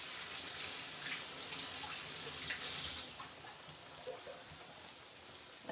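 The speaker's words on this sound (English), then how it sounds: "A quick wash of the hands." Hands being washed under a running kitchen tap, a steady hiss and splash of water at moderate distance that dips slightly partway through, then continues evenly.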